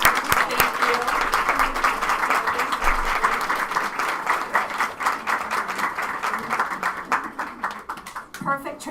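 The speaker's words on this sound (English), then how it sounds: "I want you guys to clap and stand for them" An indoor audience at an advocacy day event claps steadily and loudly for several seconds, a dense sustained applause that thins into a few scattered claps near the end.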